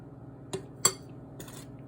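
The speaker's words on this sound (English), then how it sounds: "use a spoon to spread it to the edge" A small spoon tapping and scraping a chocolate mold while spreading melted chocolate for hot cocoa bombs, two or three brief light clinks close by, otherwise quiet with no talking.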